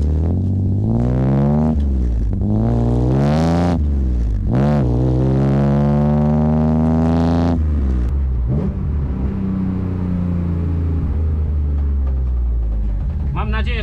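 A BMW E36's M54B30 engine revs hard, taken close at the exhaust: a loud run of rising and falling revving sweeps, several sharp climbs and drops, settling to a rumbling idle near the end.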